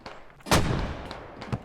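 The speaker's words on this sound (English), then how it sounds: "Multiple explosions coming out right now from mortars from Corgu and Stoneface." Mortar explosions in the video game Squad: one heavy blast booms out loud and close, its broad rumble trailing off, with a fainter crack near the end and no voices.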